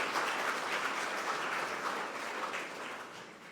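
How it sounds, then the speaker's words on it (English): Sustained applause from a gala audience honouring staff at a tourism awards ceremony in Guyana, a dense steady clapping that fades slightly toward the end with no voices over it. "they deserve a round of applause for doing all the work"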